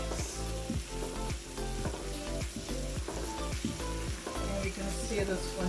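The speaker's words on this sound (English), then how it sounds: "I'm just going to be adding some of the braising spice, and this is about a half a teaspoon. I'm just going to give this a mix." Lamb sears in a pan with braising spice for lamb curry, a constant sizzle layered with clinking utensil taps and a steady low hum.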